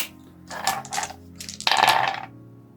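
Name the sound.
dice being rolled in a dice game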